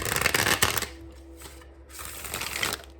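Heavy oracle cards being shuffled in loud, rapid riffling bursts, a pause, then another burst of shuffling close by.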